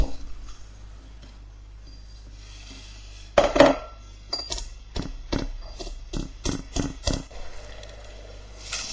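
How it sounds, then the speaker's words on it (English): Chopped ginger being bashed in a pestle and mortar: a sequence of sharp, irregular knocks, one heavier early strike followed by a run of quicker thuds and clinks, close and clear over a quiet kitchen background. "the first step is to chop up the ginger into smaller pieces, and then we can place it in a pestle and mortar and batch it out a little"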